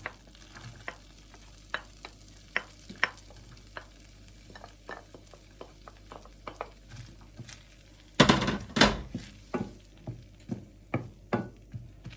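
Fresh onions fry in a hot oiled pan with a soft, steady sizzle, broken by scattered clinks of stirring and a loud burst of sizzling near the end.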